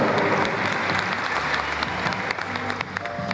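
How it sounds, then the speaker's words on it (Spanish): A crowd at an evening cultural event applauds loudly and continuously, dense clapping filling the space with a few sharper individual claps standing out toward the end. "Fuertes aplausos para Patzún, Patzún de mis recuerdos"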